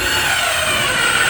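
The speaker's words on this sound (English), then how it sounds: "and then we'll take our drill" Cordless drill driving a screw through a new plasterboard patch into a ceiling, a brief, loud steady whir of the motor running continuously without pause.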